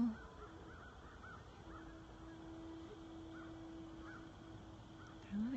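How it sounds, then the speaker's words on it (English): Geese honk faintly and distantly across a lake at sunrise, scattered calls over a low steady background hum. "I hear a lot of geese this morning."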